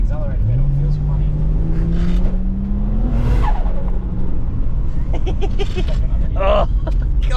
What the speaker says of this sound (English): The limiter sounds good on this thing.